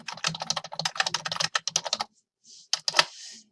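Rapid typing on a computer keyboard, a dense run of close key clicks that stops briefly, then a few scattered keystrokes and a soft rustle, with no talking.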